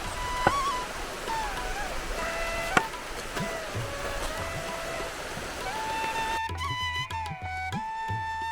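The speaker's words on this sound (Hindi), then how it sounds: "घना जंगल और बीच में झरने की कलकल की आवाज़।" Waterfall stream babbling in a dense mountain forest along a steep trek, a steady rushing wash of water with faint high tonal calls over it.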